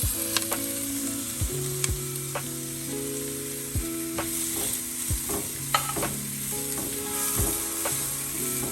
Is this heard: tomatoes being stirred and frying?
yes